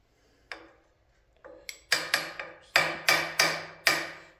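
A hammer strikes a punch to set the keyway on an axle hub, starting with two light taps and then settling into a series of sharp, ringing metallic blows, close and loud, with no talking.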